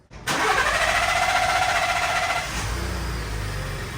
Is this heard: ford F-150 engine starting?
yes